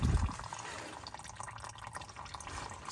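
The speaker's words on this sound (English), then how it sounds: "Just wanted to see that clean fluid come out." Manual transmission fluid from a BMW drains out of the open plug hole in a steady trickling, splashing stream, close by and continuous.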